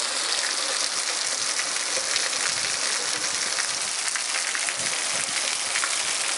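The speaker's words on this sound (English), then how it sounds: "Wanna go play in the rain, Franklin?" Rain pours steadily onto outdoor surfaces and downspouts near a house, a dense, constant hiss of drops with no pauses.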